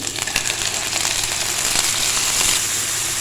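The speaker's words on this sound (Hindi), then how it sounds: "थोड़ा सा फ्राई करके साथ ही इसमें डाल देंगे मैरिनेट किया हुआ चिकन" Marinated chicken added to hot oil with ginger and garlic, frying in a steady, close sizzle with crackling pops throughout and no talking.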